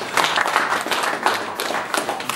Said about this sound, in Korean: 박수 한 번 더 쳐주시죠